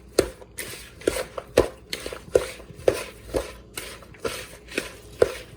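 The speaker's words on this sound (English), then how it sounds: "I'm going to go ahead and mix that in really good. Stir the salad around." A salad mixture is tossed and stirred in a bowl, a series of roughly a dozen sharp scraping knocks at an uneven steady rhythm, close and moderately loud, with no voices.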